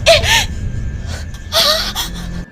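A frightened woman out jogging gasps and pants sharply in two quick bursts, close and loud, with a faint steady hum underneath.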